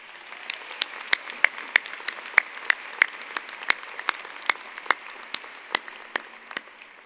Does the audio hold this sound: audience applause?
yes